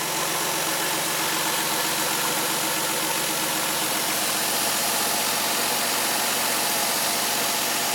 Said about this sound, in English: It starts right up and runs pretty good overall.